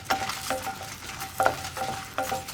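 Dry red chillies stirred in a pan over a low flame without oil, with scraping strokes and light clinks of a spoon against the pan repeating in a steady rhythm at close range.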